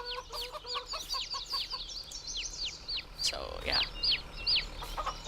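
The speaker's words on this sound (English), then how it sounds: "Very, very loud chicks." Chicks peep and chickens cluck on a farm in Farming Simulator 22, a busy flock of 40 chickens and one rooster chirping in quick, overlapping bursts close by, with a short spoken remark in the middle.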